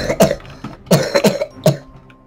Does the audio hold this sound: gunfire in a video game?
no